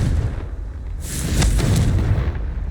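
A booming magical blast from the Confringo spell in Hogwarts Legacy, a sudden loud explosive burst with a rumbling tail and crackling debris, close and alone.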